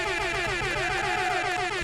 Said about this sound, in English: All right. Air horn.